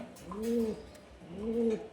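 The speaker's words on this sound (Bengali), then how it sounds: "আমার এলাকার সবচেয়ে বেস্ট যে কবুতরগুলো ওই কবুতরগুলো আমার এখানে আনা" Two soft, rolling coos from a pigeon, close by and evenly spaced, with quiet background between them.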